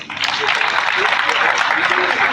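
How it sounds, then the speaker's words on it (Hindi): A small group applauds for Fasi during an online discussion session, a short burst of dense clapping that rises quickly and holds steady for about two seconds. "तो भाई फसी के लिए तालियां हो जाए"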